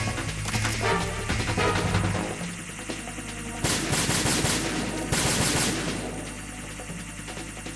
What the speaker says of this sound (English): Oops, just shooting the railing here.